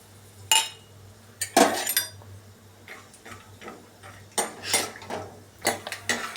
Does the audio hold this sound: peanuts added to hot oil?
yes